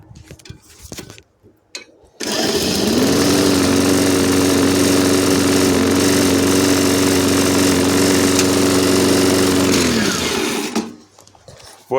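A Sterkins 52 BTDA Inox lawn mower with a Briggs & Stratton Quantum XTS 60 engine fires up abruptly and runs at a steady, loud drone for about eight seconds before cutting off and spinning down to quiet.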